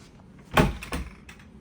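A drawer in a Brisbane hotel room slides shut with a sharp wooden thud, followed by a smaller knock a moment later and a faint click, all fairly close and distinct in a quiet room.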